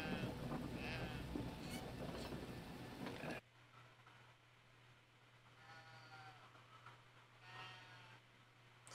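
Sheep bleating in the video game Brothers: A Tale of Two Sons, a few faint wavering calls over a steady low hum after a burst of louder game sound.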